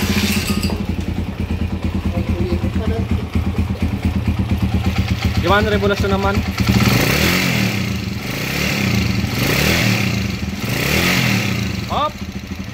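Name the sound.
motorcycle engine running and revving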